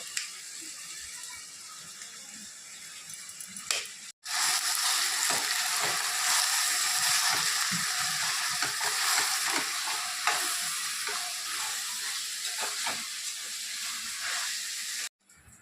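Two onions frying in oil in a pan, a dense continuous sizzle with rapid scraping and stirring strokes, close and loud, briefly cut off near the start and again at the end.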